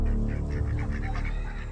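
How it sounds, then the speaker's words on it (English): Ducks honking loudly and close, a rapid run of harsh overlapping squawks and honks over a dense, noisy background with no speech. "How about those ducks? Those things are violent, dude."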